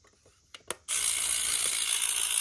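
The clockwork motor of an old tin toy car whirs after a couple of clicks, settling into a steady, close, high-pitched mechanical buzz.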